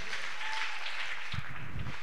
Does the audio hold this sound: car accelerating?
no